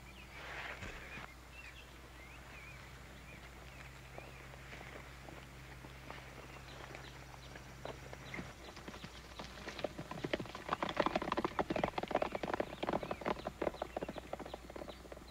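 Hooves clop in a steady walking rhythm, growing busier and louder as several horses move off together over a quiet outdoor background.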